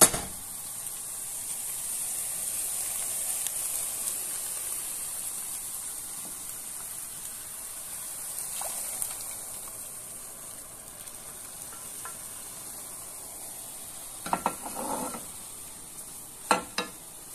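A steady, soft sizzle of chicken frying in a pan as broth is poured in, with a few sharp clinks of a utensil near the end.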